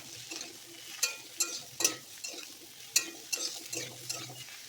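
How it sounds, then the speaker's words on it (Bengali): Chopped bottle gourd and potato drop into a hot frying pan and are stirred, with repeated scraping clatters of a spatula against the pan over a soft sizzle. "এবারে সবজিটা তুলে দেব। লাউ আর আলু।"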